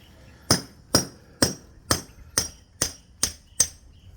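Hammer blows ring out at a house under construction as workers chip and pound at masonry, eight sharp, even strikes roughly half a second apart, close and loud with no talk.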